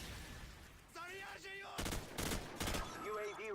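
Bursts of automatic gunfire from Call of Duty 4: Modern Warfare rattle in three quick volleys, loud and close, while someone talks over the opening second.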